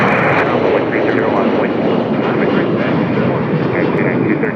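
An airplane takes off at an airport, its engines giving a steady, loud, close roar that holds unbroken throughout.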